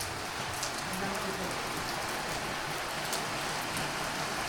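Steady rain from a passing cloud falls throughout on a mountain road near Dharchula, on the India–Nepal border, a continuous hiss with scattered drops, fairly close and even in loudness.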